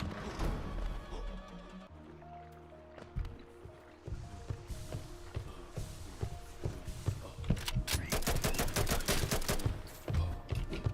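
Rapid gunfire from a gun in Hollow Knight with the Hollow Point mod, a dense run of quick shots building toward the end over game music and effects, with a short spoken remark.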